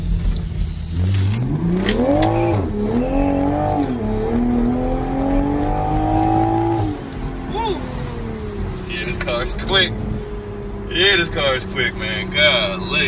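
A 2023 Toyota Supra 3.0 accelerates hard with traction control on, its engine rising loudly through rapid gear changes over about seven seconds before easing to a steadier drone, with a voice talking over it.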